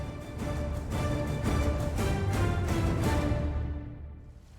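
The Duerna river in León, Spain flows with a steady broadband rush of water, constant and fairly close, fading out toward the end.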